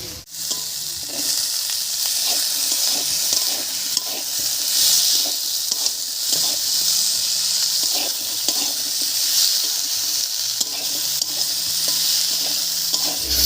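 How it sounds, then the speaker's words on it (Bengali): Potatoes frying in a pan with peas and tomato added, a loud continuous sizzle broken by repeated scraping stirs of a spatula throughout, with no voices. "আলুটা একটু ভাজা ভাজা হয়ে গেছে এবার এর মধ্যে দেব মটরশুঁটি আর একটা টমেটো"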